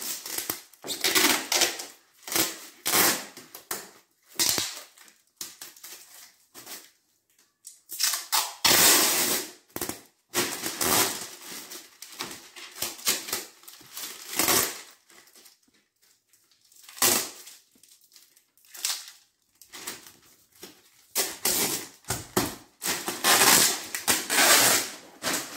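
Plastic film is stretched and wrapped by hand around a bale of used clothing, giving loud, close crackling and crinkling bursts in an irregular rhythm, broken by short pauses.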